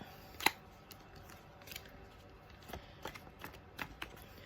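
Soft crisp shuffling and flicking of tarot cards being handled, with one sharper snap near the start and scattered light taps afterward, quiet and close with no talking.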